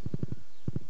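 Horse hooves clip-clop while riding in the Stardew Valley video game, six crisp close hoofbeats in two quick bursts separated by a short pause.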